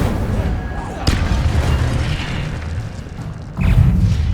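Incendio fire spell blasts in the video game Hogwarts Legacy, a loud booming burst of flame over a dense, rumbling battle backdrop, with a second heavy whoosh near the end and game voices mixed in.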